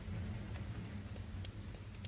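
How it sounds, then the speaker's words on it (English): Steady rain falls in the Rain Code game, a continuous dense patter with a low rumbling undertone and occasional sharper drops, heard without talking. "And the rain is not the same"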